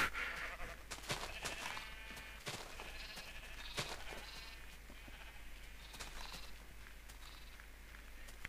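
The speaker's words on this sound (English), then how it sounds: "Now a ridiculous amount of sheep." Sheep bleat in Minecraft, a crowd of flock calls overlapping continuously at a moderate level over steady background hiss, with scattered sharp clicks throughout.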